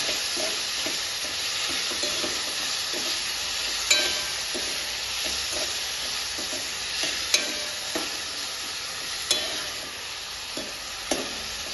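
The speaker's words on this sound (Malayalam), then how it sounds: "തക്കാളി ഉള്ളിലെല്ലാം നല്ലോണം വഴന്ന് വരട്ടത്" Tomatoes and onions sautéing in a pan for a prawn curry, a steady loud sizzle with occasional scrapes and clicks of stirring, no talking.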